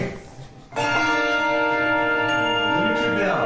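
Handbells ring together at a bell concert rehearsal, a sudden loud chord of sustained metallic tones that hangs and slowly decays with no talk over it.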